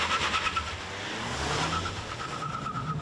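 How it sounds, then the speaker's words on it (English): A 2022 Ford Maverick XLT with its turbo four accelerates hard off the line with wheel spin, a moderately distant engine note rising steadily as the tires scrabble, with no talking. "That's some pretty significant wheel spin, and under hard throttle, there is a little bit of torque steer, pulls to the right"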